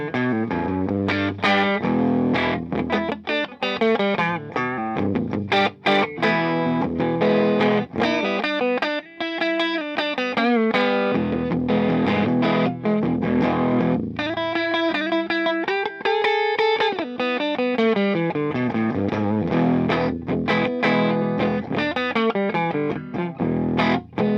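Distorted electric guitar through a modded 1974 Fender Deluxe Reverb silverface tube amp plays chords and melodic runs with a warm, bright amp tone and lush reverb tails, loud and continuous.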